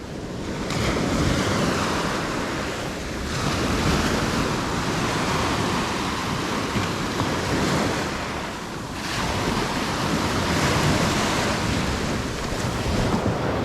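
Ocean waves wash onto a Philippine beach at high tide, surging in slow, repeated swells under steady wind rush, with no voices.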